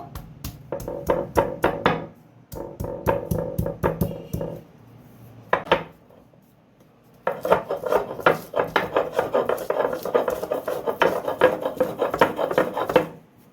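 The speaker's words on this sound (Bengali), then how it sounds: "রসুন আর আদাটাকে আমি শিলে বেটে নেব।" Garlic and ginger ground on a shil stone, heard as loud, close, rhythmic rasping strokes of stone on stone in bursts, with short pauses between.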